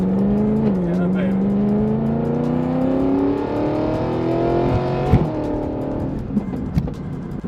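A Mercedes-Benz SLS AMG engine revs and accelerates, its pitch climbing steadily through a long pull, loud and close, followed by a few sharp pops near the end.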